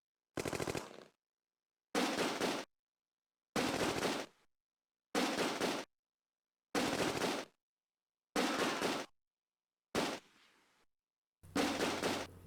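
Bursts of rifle and machine gun fire from the World War II tactical game Close Combat come in eight short, evenly spaced volleys separated by silence, each loud and sharp, one fainter and trailing off.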